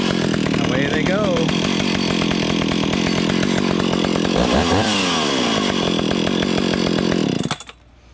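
Stihl 031 chainsaw running loud and close after starting, a rough continuous engine drone with a couple of revving swells before it cuts off near the end; a voice is heard briefly.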